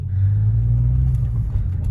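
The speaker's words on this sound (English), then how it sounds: "So Gary, would you like to go for a drive for us?" A performance Vauxhall Insignia pulls away with a deep, steady engine rumble close by, loud and continuous for a couple of seconds.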